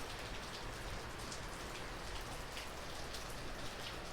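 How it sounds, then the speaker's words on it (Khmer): Heavy, gusty rain pours steadily in Northern California, a dense unbroken hiss of drops striking surfaces at close range, with no voices. "មេឃកំពុងភ្លៀង"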